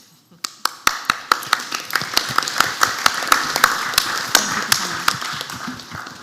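A meeting-hall audience at a local area forum claps in sparse, distinct hand claps that start scattered, build into steady applause for several seconds, then thin out again, with no voices over it.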